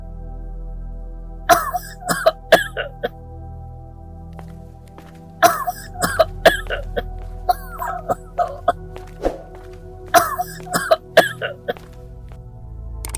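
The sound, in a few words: elderly woman coughing, story sound effect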